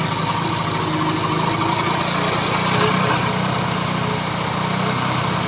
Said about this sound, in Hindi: देखिए आप धीरे धीरे इसकी जो आरपीएम है वो तेज़ हो रहा है।